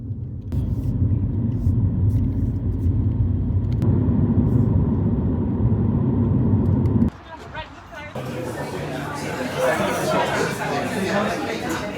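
A car drives through a small town in Devon near Exeter, with a steady, loud engine and road rumble that shifts in character partway through, while voices talk over it.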